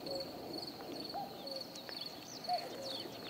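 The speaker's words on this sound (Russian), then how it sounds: "Вот кукушка закувала." A cuckoo calls in a rural garden setting, a repeated two-note call faint to moderate at a distance over steady outdoor background, with other birds chirping intermittently and no talk.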